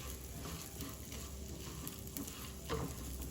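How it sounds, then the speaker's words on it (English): Curry leaves and methi seeds sautéed in a pan for kadamba sambar, giving a steady soft sizzle and crackle with a faint stir near the end. "Just going to quickly saute this."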